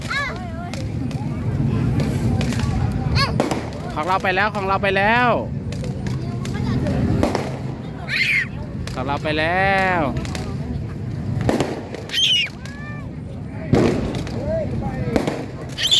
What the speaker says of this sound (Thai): ดูประทัดแล้วดูประทัดสวย